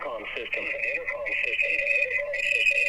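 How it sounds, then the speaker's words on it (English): Tinny, band-limited intercom sound plays from a wireless light bulb security camera, a thin radio-like voice carrying steadily for a few seconds at moderate level with a faint electronic whine. "You can turn on, and this is an intercom system."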